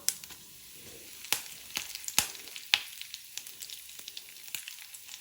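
Mustard seeds, black gram dal and curry leaves crackle and sizzle in hot oil as a tempering for an okra masala fry, with sharp pops over a steady high hiss, close and fairly loud, no talking.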